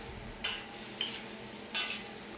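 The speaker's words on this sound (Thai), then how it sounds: "จากนั้นนำปลาที่เราลวกเอาไว้ใส่ลงไปได้เลย ผัดคุกเขาให้ซอสกับปลาเข้ากันดีครับ" Blanched catfish is stir-fried in thick holy basil sauce in a pan, with three quick loud scraping stirs cutting through a low steady sizzle, close by and without voices.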